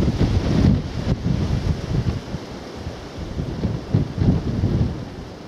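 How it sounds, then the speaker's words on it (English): Steady wind buffeting a microphone outdoors on a coastal countryside walk near West Lulworth, Dorset, a low rumbling roar with gusts rising and falling throughout, no voices. "quite windy"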